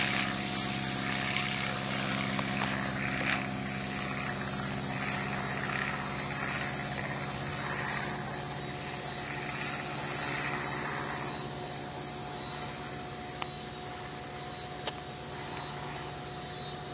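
A PT-17 biplane taking off after an emergency landing in a field, its propeller engine droning steadily at a distance across the whole stretch with a constant tonal hum and no voices.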